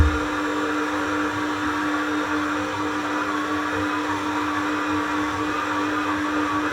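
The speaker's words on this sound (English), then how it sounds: "we're just going to bring it together on the mixer" A stand mixer brings baguette dough together with a loud, steady motor whir and hum that stays constant throughout, close by and with no voices.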